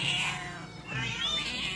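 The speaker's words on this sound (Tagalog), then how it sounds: "Grabe, nagkakagulo na ang mundo dito, mundo ng mga pusa" Hungry house cats meowing for food, two long, insistent, wavering meows in quick succession, close and loud with no talk.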